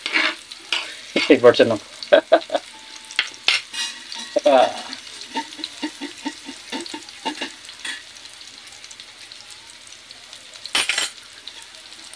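Chili and onion sauté in a pan, a steady sizzle with stirring strokes and spatula or utensil clinks against the pan, louder early then settling into a softer frying hiss, with a few brief spoken words.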